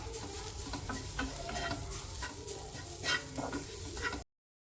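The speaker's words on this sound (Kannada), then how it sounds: "ತೆಂಗಿನಕಾಯಿನೂ ಅಷ್ಟೇ ಸ್ವಲ್ಪ ಚೆನ್ನಾಗಿ ಹುರ್ಕೊಳ್ಳಿ." Grated coconut being dry-roasted in a pan for sweet laddus, a steady close scraping and stirring with light crackle and sizzle throughout, no voices.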